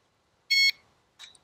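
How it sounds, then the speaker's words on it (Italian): Two short electronic beeps from an SG108 drone during calibration: a loud, bright tone lasting about a quarter second, then a quieter, briefer chirp after a pause, in an otherwise quiet room. "fa il beep"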